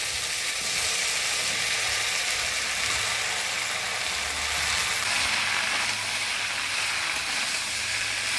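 Spice paste of chilli, ginger and coriander-cumin with sponge gourd sizzling loudly in a frying pan, a dense continuous hiss held at an even level throughout, close up with no voices.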